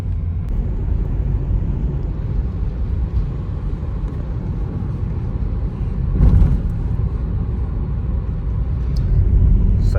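A car drives through light Sunday road traffic in Delhi, heard as a steady low rumble from inside the vehicle, with a brief louder swell midway and no talk.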